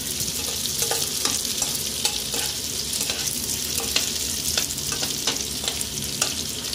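Rice grains frying gently over a very low flame in a pan, puffing up like puffed rice, give a steady close hiss with light scraping stirs recurring at an even pace throughout.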